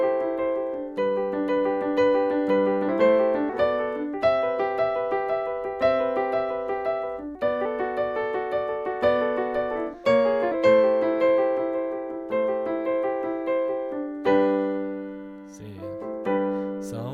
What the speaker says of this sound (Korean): 예, 뭐 이런 식으로 피아노 소리도 낼 수가 있어요.